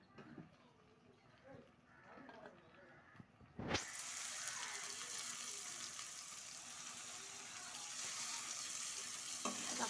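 Tomato and paste frying in a pan for tomato rice, a quiet stirring sound first, then a loud sudden sizzle that bursts in and keeps hissing steadily to the end, with no talk.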